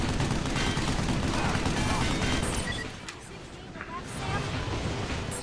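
Dense gunfire rages in a firefight in the game Vanquish, continuous and loud for the first three seconds, then easing before building again, with voices talking over it.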